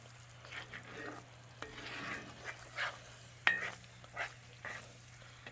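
Sauce for a jerk New York strip simmering in a pan while being stirred, giving a soft steady sizzle with scraping stir strokes and a faint clink of a utensil, fairly quiet and close.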